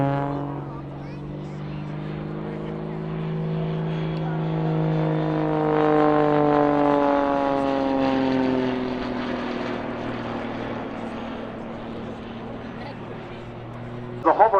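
A Jet Pitts S2S aerobatic biplane flying at an air show, heard as a sustained engine drone that sweeps up and down in pitch as the aircraft cartwheels, steady and moderately distant, with a brief knock at the very end.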